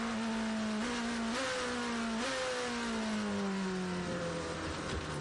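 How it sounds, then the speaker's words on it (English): A Porsche endurance race car at the 6 Hours of Imola brakes into the Variante Alta chicane, its engine note stepping down through a series of quick downshifts, loud and continuous with no talk. "Lots of early downshifts going on from Matt Campbell in the Porsche number 6 into the Variante Alta chicane"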